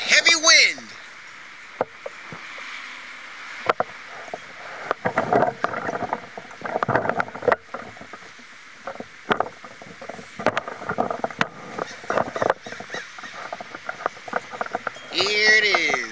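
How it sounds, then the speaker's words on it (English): Heavy wind gusting outdoors, buffeting the microphone in rough bursts with rustling and clattering debris, strongest at the start and end, while a voice speaks briefly over it. "Here it is, the heavy wind."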